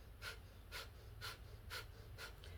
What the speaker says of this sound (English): Then, when you do the fire breathing, you go a bit faster.